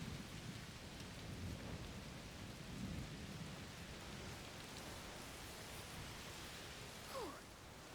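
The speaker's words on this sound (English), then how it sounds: "Oh, it's raining a lot." Heavy rain pours steadily in the video game A Plague Tale: Requiem, with low rumbling thunder rolling under the downpour through the whole stretch. No one speaks.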